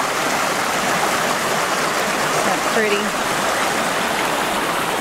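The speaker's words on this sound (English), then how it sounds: "I'm used to walking in rivers." River water rushes and burbles steadily around a person wading through the current, a continuous close wash of flowing water with a brief spoken remark over it.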